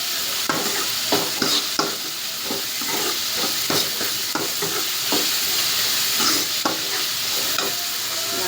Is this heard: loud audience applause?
no